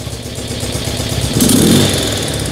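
Motorcycle engine idling after carburetor adjustments, a close, rapid, steady putter with mechanical clatter that swells briefly midway before settling back to idle.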